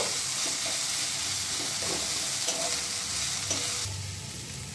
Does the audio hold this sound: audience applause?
no